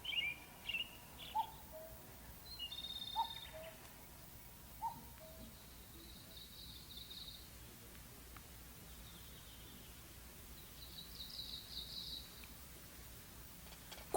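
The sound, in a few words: birds singing in the Oze wetland, Japan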